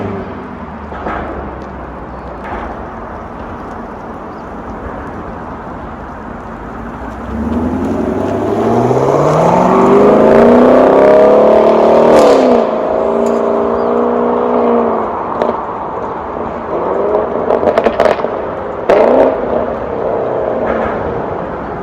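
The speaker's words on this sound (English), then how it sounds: "Okay, so that was the SS with the exhaust in track mode." A 2020 Chevrolet Camaro SS pulling away from a stop with its exhaust in track mode, quiet at first, then a loud rising engine roar that sweeps up through the gears before easing off, recorded from outside.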